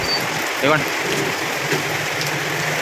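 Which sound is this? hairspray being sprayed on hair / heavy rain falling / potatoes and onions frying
heavy rain falling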